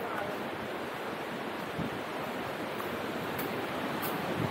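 Rushing river water flowing down from one of the largest waterfalls in Kerala, a steady, loud, unbroken roar of broadband water noise with a little wind buffeting throughout.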